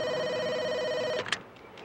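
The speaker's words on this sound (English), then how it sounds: "Oh, I better get the phone." A telephone bell rings steadily and loudly indoors, then cuts off abruptly as the receiver is picked up, followed by brief handling clicks.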